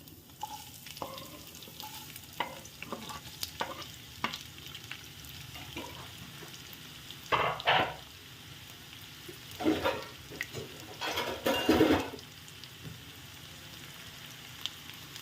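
Onion, green chillies and eggplant fry in a pan with a steady sizzle, broken by louder bursts of stirring and spattering oil; no one talks.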